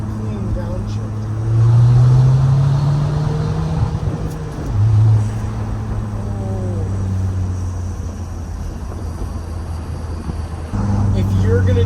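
An Audi A4 B8 with a manual gearbox driving along, its engine droning under road noise while revs rise and fall through a downshift, heard from inside the cabin with occasional voices.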